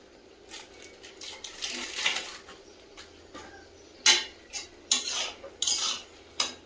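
Lote fish curry is stirred in a pan. Close, sharp scrapes and clinks of a metal utensil against the pan come in uneven bursts, louder toward the end, over a faint cooking hiss. No one speaks.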